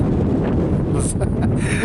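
Wind buffeting a microphone outdoors while fishing, a constant low rumbling roar with gusty swells, with talking under it.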